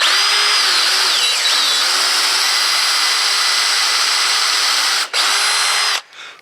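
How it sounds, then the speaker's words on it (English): A power drill whines steadily as it pre-drills into a wooden raised garden bed, loud and close, with a brief pause near the end before it stops. "we're going to just pre-drill in this same spot here until we hit the bottom board"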